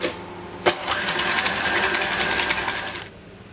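Electric mixer beating sugar and eggs in a mixing bowl: a loud, steady motor whir that starts abruptly, holds for about two and a half seconds, then cuts off.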